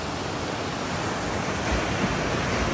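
A steady, loud wash of rough ocean surf at a Bataan coast with a constant broadband roar and no voices.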